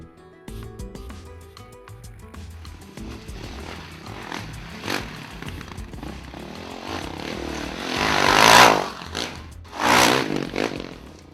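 Honda CRF450X dirt bike with a Pro Circuit exhaust pipe, ridden off-road in Baja, rises and falls in engine revs, building to two loud, close passes near the end.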